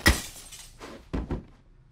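Glass smashes in a scene from the 2020 horror film Host: a sharp crash at the start, then two heavier thuds with crunching breakage following close together, fairly close and alone without talk.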